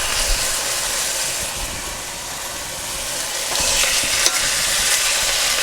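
Dried pork chops are searing in a hot pan, giving off a strong, steady hiss and crackle that swells slightly partway through, with a faint scrape or two and no voices.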